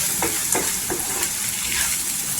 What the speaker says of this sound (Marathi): इथे 5 शेंगदाणं पण असं दरदर पिसायचं, म्हणजे दाताखाली छान असं क्रिस्पी येतात आणि तेलावर परतून घ्यायचं